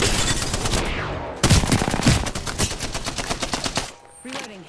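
Rapid automatic gunfire in the Apex Legends video game, loud close bursts of rattling shots with a brief gap, then more fire, fading at the end with a faint voice.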